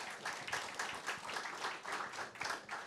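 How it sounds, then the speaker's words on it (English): An audience claps in a quiet, steady round of applause at the launch of the Meath National Hunt racing season, welcoming racecourse managers from Navan and Fairyhouse. "So a very warm round of applause."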